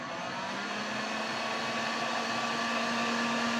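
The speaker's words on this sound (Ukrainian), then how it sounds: "беремо фен." A hair dryer blows with a constant whooshing roar and a steady motor whine, close and unbroken throughout, used to dry shoelaces.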